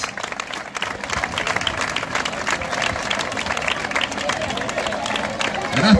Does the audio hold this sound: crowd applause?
yes